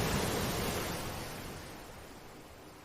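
Broad, steady wash of ocean waves from an episode of the anime Vinland Saga, loud and close, fading slightly as it goes, with no voices over it.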